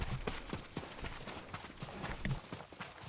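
Horse hooves galloping in Ghost of Tsushima, a steady run of clip-clop beats at moderate loudness over continuous in-game background sound.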